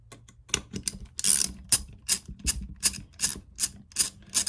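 A ratchet loosens a 3/8 bolt on a marine alternator during bearing replacement, giving a steady run of close, crisp clicking bursts with a few louder pulls, alone without talk.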